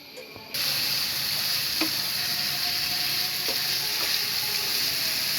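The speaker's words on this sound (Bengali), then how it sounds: "ওই তেলে হালকা ভেজে নেব।" Chicken breast sizzles steadily in hot oil in a pan, with a loud, continuous frying hiss broken by a few faint utensil taps.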